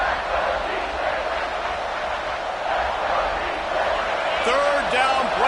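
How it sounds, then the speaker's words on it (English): A loud home stadium crowd at a football game roars steadily at fever pitch during a third-down play in the red zone, with a dense, continuous wall of cheering and a few whistles near the end. "this crowd is at fever pitch"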